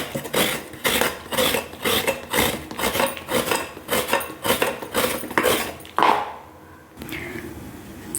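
Coconut scraped for a spicy chutney, in a fast, regular series of rasping strokes with light metallic clinks, followed by a quieter stretch near the end.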